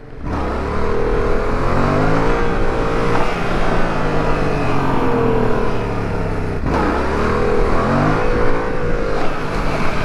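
A Yamaha MT-07 motorcycle engine on the move, loud and close, its revs rising and falling in smooth sweeps throughout, with a brief dip partway before it pulls again; no one talks.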